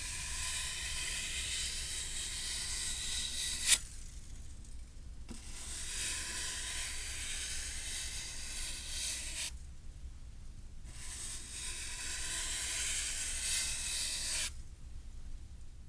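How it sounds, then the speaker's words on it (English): Wire brush rubbed against a wooden cutting board, giving a close, steady scratchy hiss that comes in three long sustained strokes separated by brief pauses, with no voices. "This is me rubbing a wire brush against a wooden cutting board."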